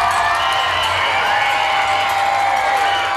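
Roadside crowd cheering as Tour of Britain cyclists pass through a town, a dense sustained roar of shouts and whoops with scattered clapping, loud and continuous throughout.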